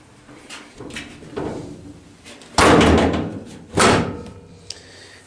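A 1956 Buick car door shuts with two solid thuds a second apart, close and loud, over a low background hum.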